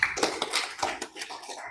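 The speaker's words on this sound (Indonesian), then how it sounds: "Kita berikan tepuk tangan yang meriah untuk kelompok 3." An audience claps for group 3 at an Islamic school class session, giving a dense, close burst of applause that carries on steadily and fades slightly toward the end.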